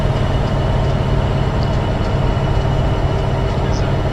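A locomotive in the Train Sim 2015 game, a loud steady low rumble with droning engine hum running continuously, close and unbroken.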